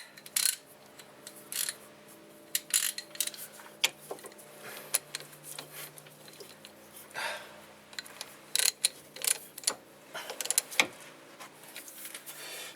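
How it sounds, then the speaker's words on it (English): A 1/2 inch drive ratchet works the brake caliper bolts on a 2008 Pontiac G5 during a front pad and rotor job, giving irregular close clicks and mechanical ratcheting over a faint background hum. "Now this is a 1/2" drive ratchet because it's the only one that I could get my hands on."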